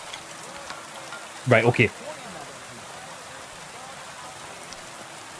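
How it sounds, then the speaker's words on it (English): Heavy, steady rain falling in Kingdom Come: Deliverance II, a constant wash of rainfall with someone briefly speaking over it. "This will be a nice shooting competition in the pissing down rain."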